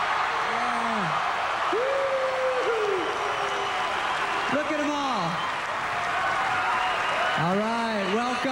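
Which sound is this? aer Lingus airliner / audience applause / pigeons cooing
audience applause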